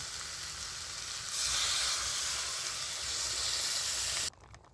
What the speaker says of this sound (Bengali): এবার আমি একটু মিক্সি বাটি ধুয়ে জল দিয়ে দিচ্ছি